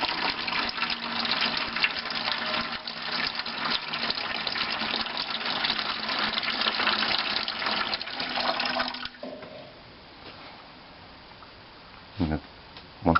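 Water pours steadily from the standard spigot of a Todd wood cook stove's 6-gallon stainless steel reservoir for about nine seconds, then cuts off, followed by quiet drips and a couple of small clunks.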